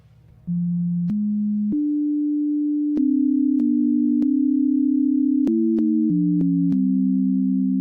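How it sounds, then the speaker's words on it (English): A simple melody of pure sine tones, a solfeggio sound-healing tune, steps through a dozen or so notes, each held briefly then changing pitch, clean and steady with no other sounds. "Here's what it sounds like in sine wave."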